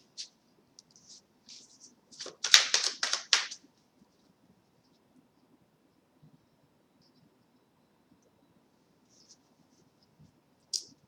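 A tarot card deck is riffled and cut, giving a burst of quick papery flicks lasting about a second and a half, with soft scattered card taps before and after and quiet stretches between.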